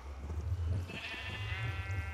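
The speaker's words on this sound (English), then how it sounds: "Sheep!" A Minecraft sheep bleats once, a short nasal wavering cry heard close and clear over a low background hum.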